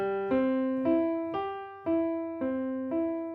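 A piano chord is struck on a keyboard six times in an even rhythm, each chord ringing clearly and decaying before the next, close and fairly quiet with no talk.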